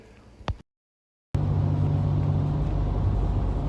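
A K1500 pickup truck towing a trailer on the road near Las Vegas, a brief click and gap followed by a steady, loud engine rumble and road drone from inside the cab.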